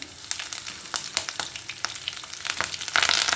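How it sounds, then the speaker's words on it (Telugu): Green chillies hit hot oil while raw mango pulihora is cooked, sizzling and crackling close up, with sharp spits and stirring scrapes that build louder toward the end, no voices. "పచ్చిమిర్చి వేస్తున్నాను."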